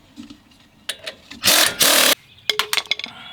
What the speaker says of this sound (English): you can use your impact wrench.